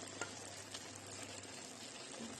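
Vegetable stew with tomato simmers under a lid, giving a very faint, soft, steady sizzle and bubbling. A few small ticks are heard, with no voices.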